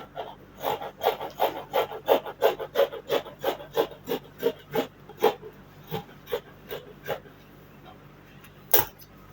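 Scissors cut through fabric for a six-piece skirt, producing a close, regular series of crisp snips and rasping rubs that slow and thin out, ending with one sharp louder snip.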